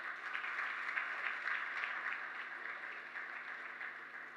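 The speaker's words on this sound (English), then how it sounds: "A big round of applause here." Audience applause for sponsors at an international accountants' seminar in Muscat, Oman; steady, fairly distant clapping from a crowd fills the whole stretch and tapers slightly at the end.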